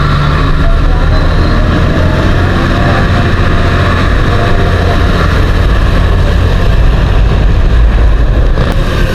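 A motorcycle cruises on a highway during a group ride, its engine droning steadily and loudly up close with heavy wind rush and no pauses.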